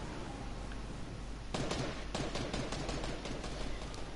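Rapid bursts of gunfire in the Fortnite video game break out after a steady hum of background sound, with repeated sharp shots crackling on through the rest of the moment, fairly loud and close.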